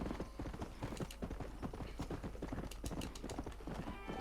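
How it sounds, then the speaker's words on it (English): Horses in the video game Red Dead Redemption gallop with rapid, loud hoofbeats in a steady driving rhythm, accompanied by a few neighs, heard up close throughout without speech. "So here are the horses."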